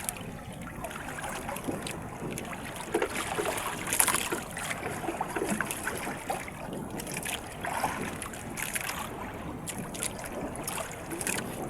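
Waves wash and splash continuously against a boat or shore, mixed with wind buffeting the microphone, at a moderate, steady level.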